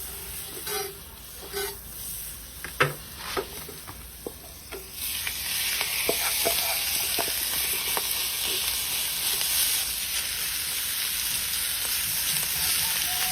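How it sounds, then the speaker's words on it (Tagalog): Banana blossom sisig sizzling with butter on a hot sizzling plate, a steady loud hiss and crackle after a few scattered stirring clicks, with no voices. "ilagay rin natin siya sa sizzling plate na may kasamang butter"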